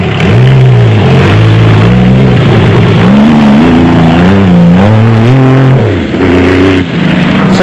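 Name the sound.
Scat V6-powered Jimco off-road race car engine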